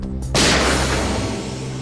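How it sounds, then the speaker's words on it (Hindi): A single sharp gunshot bursts out near the start, followed by a rumbling echo that fades slowly. "गोली चलने की आवाज इस तरफ से,"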